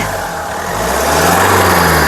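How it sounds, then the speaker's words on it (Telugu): The diesel engine of a 2015 Mahindra XUV500 runs steadily close by, then its pitch and loudness rise as it revs up, holding a strong rumble to the end. "ఇంజన్ యొక్క నాయిస్ చాలా సైలెంట్గా అయితే ఉంది రైజ్ ఒకసారి"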